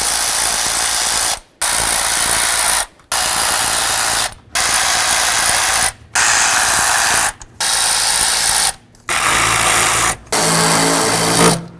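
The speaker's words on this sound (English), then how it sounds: "I'm going to get that with a smaller ratchet." A ratchet backs out valve cover bolts on a 1998–2012 Ford Crown Victoria, loud close bursts of rapid clicking in eight or so runs, each about a second long and split by brief pauses.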